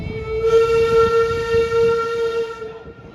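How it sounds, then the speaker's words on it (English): A train at Busch Gardens passing close by, blowing a loud sustained whistle for about two seconds over the rumble of the wheels. "Shut up, train, jeez."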